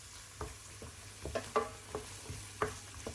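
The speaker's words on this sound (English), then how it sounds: "Toss in 2 chopped green chilies for a bit of heat and stir for another minute." Chopped green chilies, onions and cashews frying in a pan, a faint soft sizzle broken by scattered light scrapes and taps of stirring.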